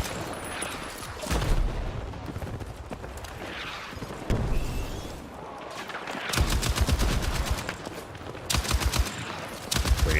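Bursts of M60 machine gun fire crack out during an online shooter match on the Grand Bazaar map. Several rapid, loud volleys arrive in separate strings, with brief pauses and quieter game noise in between.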